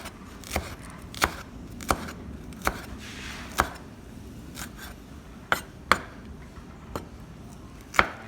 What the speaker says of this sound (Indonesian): Bawang putih, bawang merah itu dirajang tipis semua.